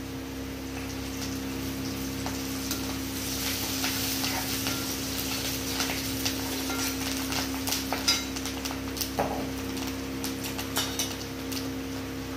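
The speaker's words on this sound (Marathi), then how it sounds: "हा कढीपत्ता पण याच्यात टाकून घेऊ." Curry leaves sizzle in hot oil in a pan for kadhi, a steady close frying hiss with light stirring clinks over a constant low hum, no voices.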